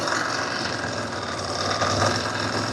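Ducati motorcycle engine held at a raised fast idle of roughly 2,500 to 3,000 RPM during a charging check, giving a steady, loud, close drone with a faint rattly texture throughout.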